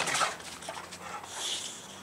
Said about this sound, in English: Here's the dog that's jumping on me the whole time.